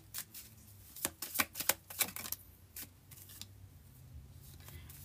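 A deck of love message cards being shuffled by hand, a rapid flurry of crisp riffling snaps and papery flicks, loudest in the first half and thinning to scattered soft rustles.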